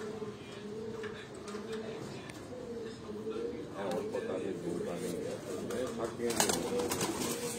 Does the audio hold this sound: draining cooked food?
no